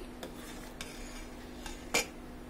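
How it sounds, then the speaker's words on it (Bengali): A spoon stirs soy sauce into chicken soup in a pot, giving a few sparse metallic clinks against the pot over a quiet kitchen background, with one sharper knock near the end. "এখন আমরা এটাকে ভালোভাবে নাড়াচাড়া করব।"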